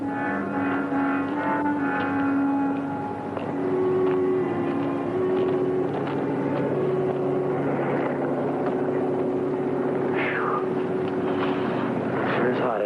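Several patrol planes of a sheriff's aero squadron drone steadily overhead as a radio-drama effect, a continuous engine hum with tonal bands that holds for the whole stretch under faint background activity.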